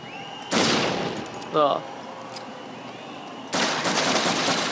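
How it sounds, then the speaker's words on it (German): Gunfire in the video game Flashback Remake: two loud bursts of rapid automatic shots, one early and one near the end, with a brief mechanical chirp between them and a voice speaking briefly. "Kann man kaputt schießen."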